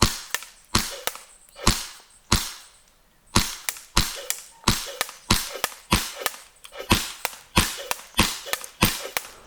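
An airsoft gun fires BBs in a steady series of sharp, snappy shots, roughly two per second, each a crisp crack with a quick decay, loud and close with no talk.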